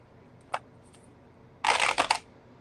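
Tarot cards are shuffled by hand: a single quick riffle, then a louder, denser half-second burst of flapping and snapping card stock. No voices accompany it.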